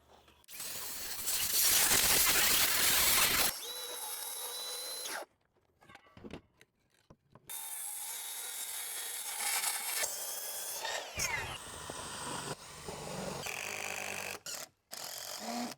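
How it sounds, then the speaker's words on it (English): Power saw ripping lengthwise down a 2x pallet-wood board, a loud steady whine for a few seconds, then stop-start cutting bursts and scraping handling noises, close up. "I'm gonna rip down this 2x."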